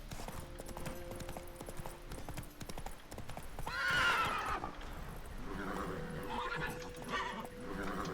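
Roach, a horse in a video game, clops along in steady hoofbeats while a sharp whinny breaks out midway and a softer neigh follows later, all fairly faint.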